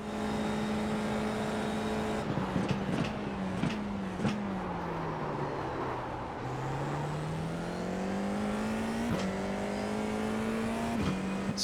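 Racing car engines in a video game race, a loud whining engine tone that dips and climbs through gear changes, with sharp clicks and other cars whirring nearby.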